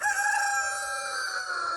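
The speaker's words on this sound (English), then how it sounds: "And here come the chickens." A rooster crows in one sustained, fairly faint call with chickens around it, heard at a distance over a quiet backyard with no talking.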